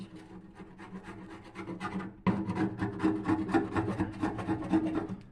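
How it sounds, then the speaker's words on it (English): A small scraping tool grinds hardened, degreased grime off a stainless steel stove in close, steady rasping strokes that turn louder and denser partway through. "I'm gonna be using this little scraping tool."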